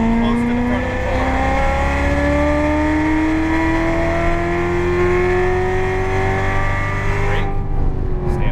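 A Corvette Z06 accelerating on the race track at Las Vegas Motor Speedway, its engine note climbing steadily and loudly through the revs from inside the car, with a brief shift or lift near the end.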